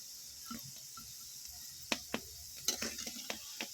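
Soybean kebabs fry in oil, with a faint low sizzle broken by scattered pops and crackles that grow more frequent toward the end.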